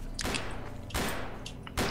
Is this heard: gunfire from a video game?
yes